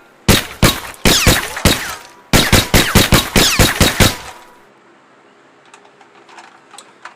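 A toy Glock 17 replica pistol fires rapid bursts of sharp, loud cracks that ricochet off an indoor wall, about fifteen snapping shots in two quick volleys, then a quiet tail with faint ticks.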